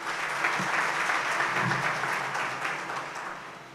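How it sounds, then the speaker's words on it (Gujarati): Sustained applause from an audience at a Gujarati talk on reading and reflection, a dense steady clatter of many hands clapping at once that fades slightly toward the end. "આ ત્રણેય મિત્રોને આપણે વિશેષ તાળીઓથી વધાવવા છે"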